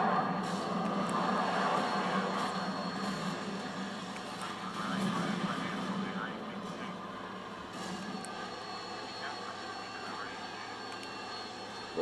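Chopper gunner helicopter killstreak in Call of Duty: Modern Warfare 2, a steady broad engine roar with chopping rotor drone throughout, fading slightly over time with faint scattered game noises.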